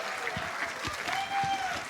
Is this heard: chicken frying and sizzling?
no